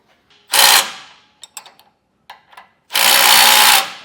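Impact or power tool snugging down hitch base plate bolts on a 2024 GMC Canyon: two loud sustained bursts, a short one then a longer one, separated by faint ratcheting clicks and small metallic handling sounds, with no talking.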